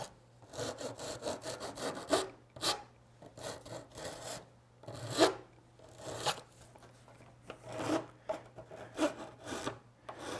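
A coarse hand file rounding the corners of a polycarbonate plastic piece, with repeated close rasping strokes in uneven bursts and short pauses between them.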